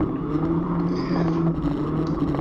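A rallycross car at a Stafford event drives with a steady, loud engine drone and road rumble throughout, no clear gear changes or passes standing out, and no talk.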